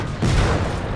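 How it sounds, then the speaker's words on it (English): An M4 Sherman tank in World of Tanks fires its gun, producing a single heavy, loud boom with a dense rumbling tail filling the short moment. "Look at this guy just spewing out the rounds."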